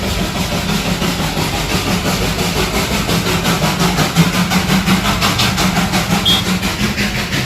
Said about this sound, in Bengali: ইঞ্জিন দিয়ে ট্রেন যাচ্ছে।